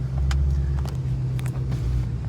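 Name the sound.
Ford Shelby GT500 supercharger engine running, stock factory blower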